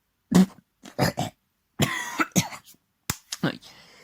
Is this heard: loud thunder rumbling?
no